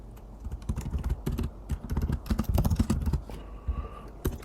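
Rapid typing on a computer keyboard sounds close and clear, with dense irregular clicks in bursts that slow near the end, and no talk.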